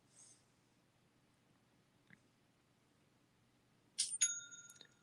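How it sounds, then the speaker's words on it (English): A store phone gives a purchase notification: a bright, ringing two-tone chime near the end that rings on briefly, preceded by a faint click and quiet room tone. "Oh, I just heard my phone, my store phone. Somebody made a purchase."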